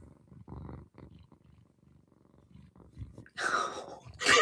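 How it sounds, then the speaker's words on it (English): Pet cat purring close to a microphone and rubbing its face against it, a soft low rumbling purr that swells into louder rubbing and brushing noises near the end. "She has a very loud purr."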